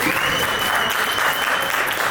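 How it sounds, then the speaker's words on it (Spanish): A large audience at a leadership conference applauds steadily, a dense, loud wash of clapping that holds evenly throughout. "es un aplauso por estar aquí"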